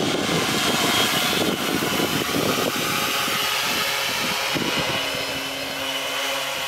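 A search and rescue drone carrying a payload slung underneath hums steadily outdoors in a crosswind, its buzzing rotor drone continuous and fairly close, with a thin whining tone emerging near the end.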